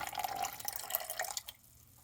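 Ale8 soda runs in a steady trickling pour into a measuring container for soap making, a fizzy splashing stream that stops abruptly after about a second and a half, close and fairly quiet.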